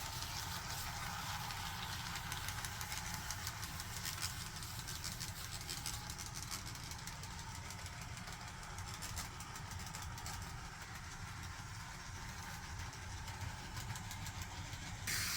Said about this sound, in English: Now we have our Walthers Tri-Rail locomotive.